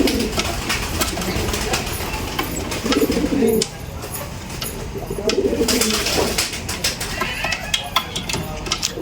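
Pigeons coo in soft, low, repeated bursts inside a loft, under steady rustling, wing flutters and background noise, with a faint voice now and then.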